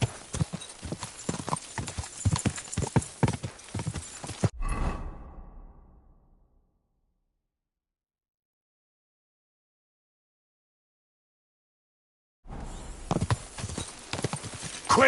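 Horse hooves galloping in Kingdom Come Deliverance 2, a fast rapid clip-clop on ground that cuts off abruptly into silence, then resumes near the end; a faint whinny and brief rushing sound accompany the hoofbeats.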